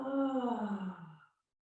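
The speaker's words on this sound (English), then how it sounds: "And then exhale, let everything roll away." A single slow, deep exhale during a calming all-abilities yoga breathing session, a soft breathy sigh close to the microphone that fades out after about a second.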